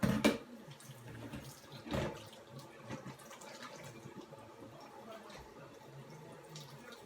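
Hot tap water runs steadily over a jar with its lid set on loosely, warming it in a home kitchen; a close, continuous watery hiss with a couple of sharp clinks near the start and no talking.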